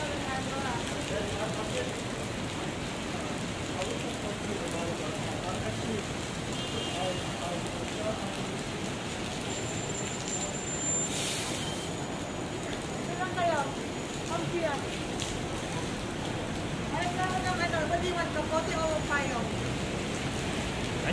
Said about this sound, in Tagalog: Grabe talagang umulan dito sa city